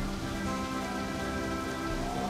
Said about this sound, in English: These rainy days kind of suck.